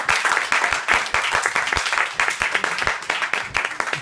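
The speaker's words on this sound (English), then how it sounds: "I want you to give a thunderous round of applause for Brandon Jackson." Audience at a comedy show breaking into loud, sustained applause and clapping for a comedian, dense and steady throughout with scattered individual claps standing out.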